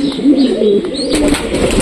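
Pigeons coo close by in a few soft, throaty warbling calls, with a brief rustle between them and no talking.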